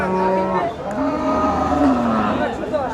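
A Sahiwal cow moos at a Bosunia cattle market, giving a long, drawn-out low call close by, with a voice speaking and market noise in the background.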